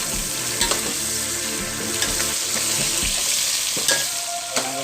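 Meat, one kilo for a ghosh korma red meat curry, sizzles and fries in a pot, with steady frying hiss and several louder stirring scrapes and clatters throughout, no voices.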